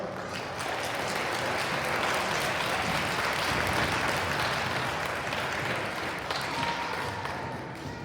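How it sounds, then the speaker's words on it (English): An audience at a first and second grade school awards assembly claps for a Kindness Award winner, a sustained, even wash of many hands that tapers slightly near the end. "Give a round of applause"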